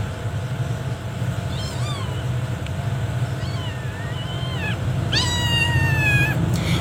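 A house cat meows several times, short rising and falling calls, with a louder, longer meow near the end, heard close over a steady low rumbling background noise.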